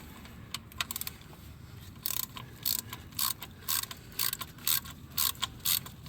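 A ratchet with an E14 socket loosens the serpentine tensioner bolt on a 2011-2015 Chevy Cruze 1.8L, giving repeated short bursts of clicking, close and fairly loud, over a low engine-bay hum with no talking.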